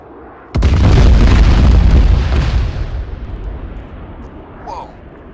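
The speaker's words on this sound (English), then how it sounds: "that cluster bomb was a bit danger close" A cluster bomb goes off in Arma 3, a sudden loud, close blast at about half a second followed by a heavy rumbling roar of bursting submunitions that slowly trails off, with a faint whistle near the end.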